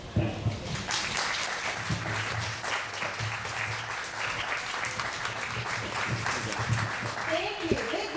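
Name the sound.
audience applause at a festival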